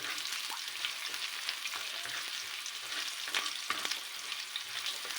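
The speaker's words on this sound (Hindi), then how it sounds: "और इसको भी हम इसके अंदर थोड़ा सा फ्राई कर लेंगे।" Chicken pasta ingredients fry in a pan with a steady, fairly quiet sizzle and hiss throughout, broken by a few soft stirring scrapes, heard up close with no talk.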